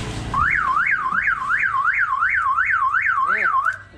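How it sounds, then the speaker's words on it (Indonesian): A Toyota Vios car alarm wails close by, a loud rising and falling siren repeating about nine times in steady rhythm before cutting off. "Ini alarm ini maaf nih, ntar takut kaget ya ini begini."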